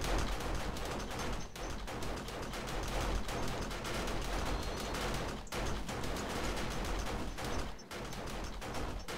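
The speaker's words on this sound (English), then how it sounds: "I'll just fire off a bunch of rounds and see if I can get their attention" Gunfire in the video game 7 Days to Die, a dense, continuous barrage of rapid shots with a few brief breaks, loud and close throughout.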